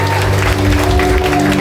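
Church congregation clapping loudly in praise during a service, a dense continuous patter of many hands over a sustained low musical hum, close and steady from start to finish.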